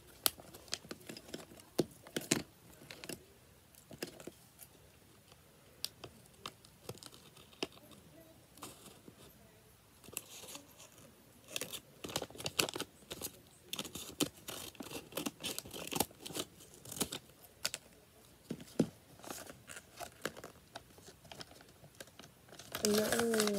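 A homemade paper cookie blind bag is cut open and handled up close, with dense crinkling, rustling and snipping sounds that grow busier toward the end; a voice is faintly present at times.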